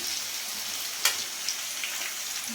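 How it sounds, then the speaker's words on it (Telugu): Small lumps of spinach pakoda batter fry in oil over medium heat, giving a soft, steady sizzle and bubbling with one sharp crackle partway through, close by and without speech. "బాగా మీడియంలో పెట్టి వేయించుకోండి"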